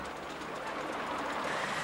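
Black 5 steam locomotive number 5000 on a miniature railway working up a stiff 1 in 60 climb, heard as a faint, steady, somewhat distant rumble and chuff with no voices.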